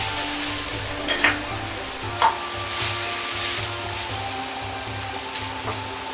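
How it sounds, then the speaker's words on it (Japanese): Tofu simmers in a pot of water, giving a steady close bubbling hiss, broken by a few light knocks. "今度は豆腐を下茹でしていきます。"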